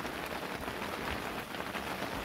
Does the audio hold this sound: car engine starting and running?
no